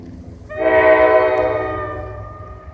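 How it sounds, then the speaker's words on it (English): A K5LA horn on an ALP-45 locomotive sounds once at Raritan, a loud, close chord that swells in and holds for about two seconds, then fades over low background rumble. "Oh, that's a shitty K5LA horn."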